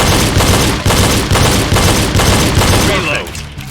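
Rapid pistol gunshots in a reload drill, a string of loud, close, evenly spaced cracks that echo, then a quieter tail as the firing stops.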